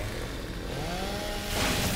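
A chainsaw from the Gears of War video game revs with a continuous buzzing roar that swells louder near the end, heard alone without talk.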